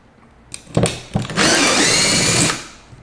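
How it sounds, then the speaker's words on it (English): A power drill whirs loudly for about a second after a few short bursts, then spins down, with no voices, while testing a universal socket. "Let me actually switch back to the regular drill."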